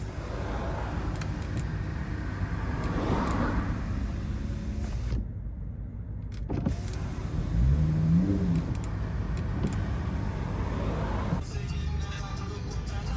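Steady loud road noise and passing car engines rush in through the open window of a 2022 Bentley Flying Spur in Miami, with wind buffeting and a brief engine rev.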